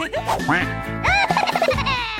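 Cartoon duck quacks, bright and squeaky, sounding in a quick bouncy series with springy pitch swoops, loud and close, with no talking.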